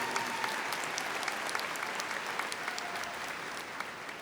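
Steady, sustained applause from a large crowd at a university commencement ceremony, dense clapping with no breaks and no voices on top.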